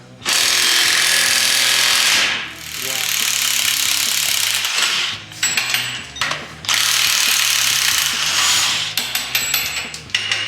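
A power ratchet zips loose U-bolts on the suspension of a 1986 Chevy K-10 in long, loud, rattling bursts, close up, broken by short pauses and clanks between runs.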